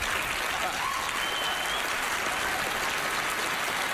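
Dense, sustained audience applause at a magic show fills the room, loud and even throughout with no talking.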